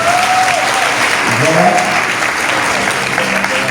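Steady, loud applause from a church congregation at a Catholic Charismatic Renewal gathering, a dense wash of clapping throughout, with a voice speaking over it.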